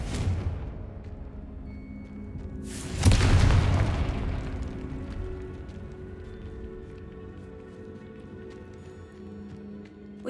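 A fiery Confringo spell cast in the Hogwarts Legacy video game bursts as a single loud, booming explosion that rumbles briefly and then fades into low ambient game sound.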